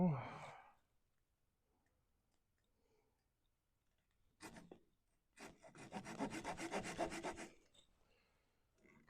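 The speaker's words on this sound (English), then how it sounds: "cut that tenon off" A tenon being cut off a turned wooden piece by hand, several rasping sawing strokes near the microphone in short bursts with quiet pauses between, after a breathy sound at the start.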